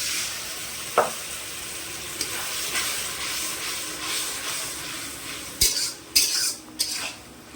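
Spice paste is sautéed in a pan with small splashes of water, giving a steady close sizzle, with a few sharp clinks and scrapes of a spoon against the metal pan near the end.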